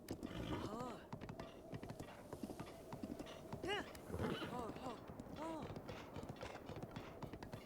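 Horse hooves clip-clopping in the video game Zelda: Breath of the Wild, a quick steady rhythm of hoof beats with a couple of whinnies and someone talking over them.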